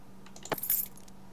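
Keys jangle briefly in the video game Layers of Fear, a short close metallic rattle over a quiet room hum, with no voices.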